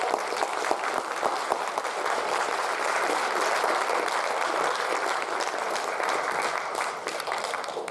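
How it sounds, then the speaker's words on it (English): A large lecture-series audience breaks into loud, dense applause welcoming Dr. Julius Garvey, a steady wash of clapping that holds for the full eight seconds with no voices over it. "Let's welcome him with a big round of applause"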